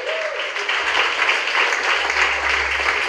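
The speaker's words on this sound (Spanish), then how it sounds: "dele ofrenda de palmas al Señor." A church congregation gives a steady round of applause lasting a few seconds, fairly close, with a faint voice briefly audible at the start.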